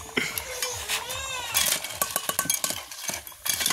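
Masala is stirred in a home cooking pot, with repeated metallic scrapes and clinks of a spoon against the pot in an irregular rhythm. A brief whistling tone rises over the stirring near the start.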